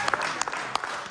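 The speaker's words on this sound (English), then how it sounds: "Clap up for Jesus!" A church congregation claps together in a worship service, a dense run of sharp, fairly close handclaps with a few louder individual claps standing out, and a voice faintly under it.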